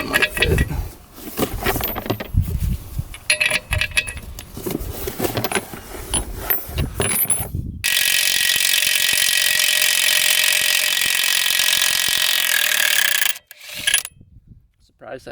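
Wrench working lug nuts on a 1970s skid steer, a jumble of close metallic clicks, ratcheting and rubs, then a long steady grinding burst near the end.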